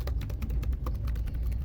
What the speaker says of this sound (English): I enjoy typing on this keyboard.